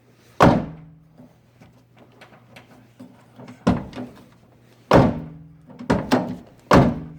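Side doors closing on a car being built from the frame up: several solid thunks spaced a few seconds apart, the later ones coming in quicker succession, with small clicks and rattles between.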